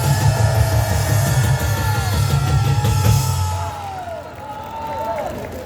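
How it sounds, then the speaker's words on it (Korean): A crowd at a Liberty Unification Party political rally in South Korea cheers and claps loudly, with whoops over a steady wash of applause that fades out toward the end. "연설을 한 박수로 청해드리겠습니다"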